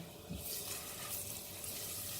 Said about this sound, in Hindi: इसे हल्का सा भून लेते हैं।